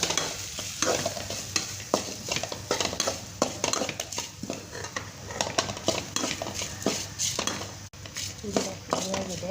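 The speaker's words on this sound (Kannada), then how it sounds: "ಇದನ್ನು ಫ್ರೈ ಮಾಡ್ಕೊಳ್ಳೋಣ." Chili powder, tamarind, jaggery and salt fry in a pan for chutney, with a steady close sizzle and rapid, repeated scraping and clinking of a spoon stirring against the metal; a voice talks briefly over the cooking.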